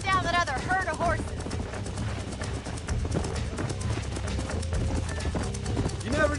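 Horse hooves galloping in Red Dead Redemption 2 while tracking a herd of horses, a steady clip-clop beat running beneath background music and voices talking.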